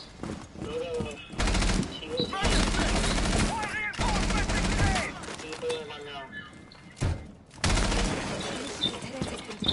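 Gunfire in the video game Valorant comes in several loud, sharp bursts and volleys spread across the moment, with players talking over and between the shots.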